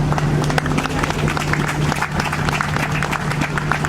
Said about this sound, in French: Applaudissez très très fort, s'il vous plaît